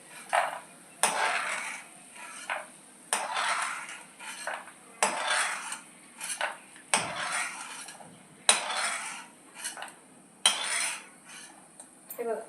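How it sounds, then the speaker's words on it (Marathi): A metal utensil repeatedly scrapes and clinks against a pan as dry, crunchy fried peanuts are scooped out into a dish, in a steady rhythm of strokes. "त्यांना आता मी ह्या डिशमध्ये काढून घेते"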